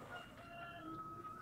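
Rooster crowing faintly at a distance on a rural Texas property, one drawn-out sustained call heard over low background noise with no talk.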